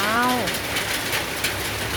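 Morning drizzle falling on a garden in Sa Kaeo, Thailand: a steady, even hiss of light rain with soft patter throughout, and a brief tonal voice-like sound at the very start.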